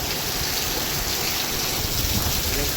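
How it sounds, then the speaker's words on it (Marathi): Heavy rain pours down in a steady, dense hiss that stays loud and unbroken throughout, with no voices heard. "हा पाऊस तर फुल पडला रे"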